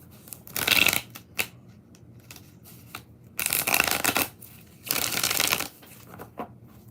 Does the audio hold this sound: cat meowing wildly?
no